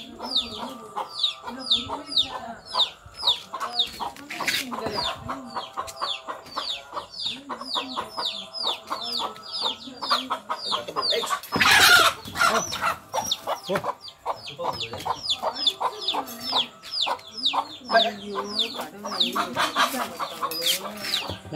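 Chickens inside a coop cluck busily and continuously, close by, with overlapping calls and some agitated squawks and a brief burst of flapping or commotion midway.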